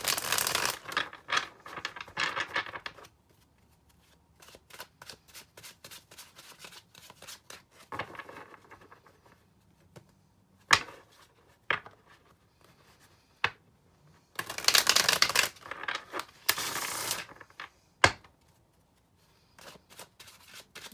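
A deck of tarot cards is shuffled in uneven bursts, soft riffling flicks broken by pauses and a few louder scraping surges, with no voices.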